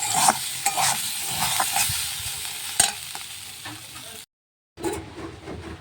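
Potatoes with garlic fry in a pan in a village kitchen, a close sizzle with repeated stirring scrapes and clanks, cutting off briefly before resuming.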